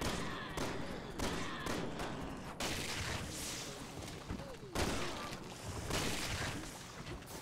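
Gunfire and heavy impacts from Resident Evil 6 co-op gameplay, a dense, continuous barrage of shots and booms with sharp bursts near the start and middle, loud throughout with faint voice underneath.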